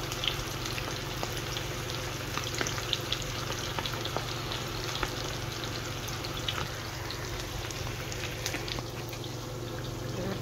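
Shrimp fry in hot oil in a pan, giving a dense, steady sizzle with scattered crackles and pops that carries on evenly throughout at close range.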